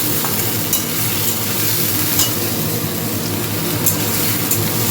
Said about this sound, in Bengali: সুজিটাও নাড়তে থাকছি, একটু শুকনো শুকনো করবো।